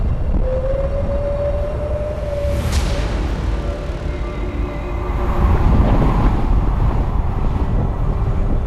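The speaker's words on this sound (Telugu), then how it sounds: "గాలి వేగం అంతకంతకు పెరుగుతోంది." Strong wind roars steadily in the Himalayas amid mist, a broad continuous rush that swells louder in the second half, with a faint tonal whistle early on.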